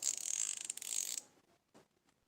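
Rapid mechanical clicking from a Daiwa baitcasting reel's drag clicker, a steady ratcheting buzz for about a second, then a few faint isolated clicks as it slows.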